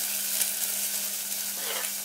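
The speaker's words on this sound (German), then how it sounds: "Und nun gebe ich die Zwiebeln in den Topf." Diced onions frying in oil in a cooking pot over a medium flame, giving a steady, dense sizzle throughout with a brief stirring scrape, no voices.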